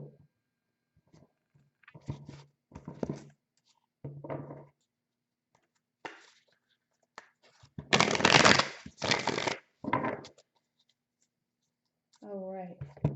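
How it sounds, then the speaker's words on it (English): A deck of tarot cards being shuffled by hand, close and crisp, in several short riffling bursts with the longest near the middle, while a voice speaks in between. "One more quick shuffle."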